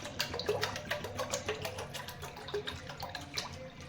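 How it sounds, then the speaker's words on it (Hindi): Cold water is poured into a container while a summer drink is being made, giving a continuous splashing, trickling stream with irregular bubbly bursts, moderately close and fairly quiet, with no talking. "अब इसमें डालते हैं ठंडा पानी।"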